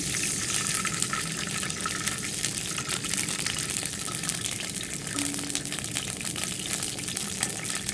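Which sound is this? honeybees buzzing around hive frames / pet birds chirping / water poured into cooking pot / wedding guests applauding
water poured into cooking pot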